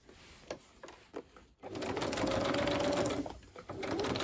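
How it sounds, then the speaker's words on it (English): A sewing machine runs in bursts of quick stitching, pausing briefly, then hums steadily for a longer stretch while curvy free-motion lines are sewn on mixed-media fabric tags; close and moderately loud. "do some bodgy curvy stitching"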